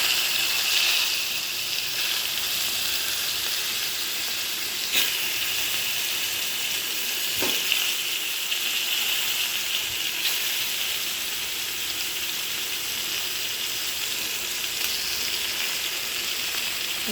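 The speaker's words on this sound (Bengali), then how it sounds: "এখানে আমরা একটা কড়াইতে তেল দিয়ে বসিয়ে দিয়েছি, মাছগুলো ভেজে নেব।" Rohu fish frying in hot oil in a wok, a steady close sizzle and hiss throughout with a few faint clinks of utensils and no talking.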